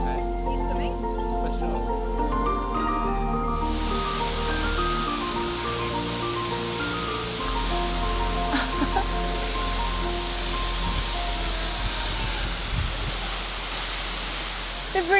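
A waterfall at Springbrook National Park on Australia's Gold Coast roars as a steady, dense rush of falling water, loud and continuous, with soft background music running underneath.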